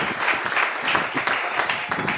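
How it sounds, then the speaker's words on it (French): A church congregation applauds during a French-language sermon, a dense steady patter of many hands lasting a couple of seconds. "Applaudissons"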